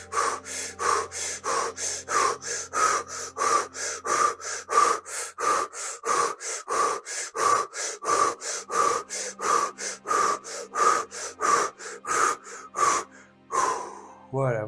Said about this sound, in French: Et on recommence les exercices de respiration.